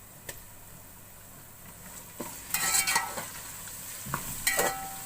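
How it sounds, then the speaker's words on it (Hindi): Garlic paste fries on low heat in a pan for pulao, a soft sizzle under occasional spoon clinks, then a louder burst of crackling and scraping as it is stirred, close with no talk. "लहसुन को मैं थोड़ी देर भून लूंगी हल्की आंच पे।"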